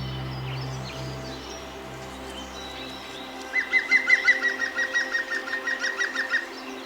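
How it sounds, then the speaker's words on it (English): Birds call in a Borneo tropical rainforest, first a mix of distant chirps over a low hum, then a nearby bird repeats a quick rhythmic series of notes. "The melody of the birds' voices here gives a sense of tranquility that everyone needs."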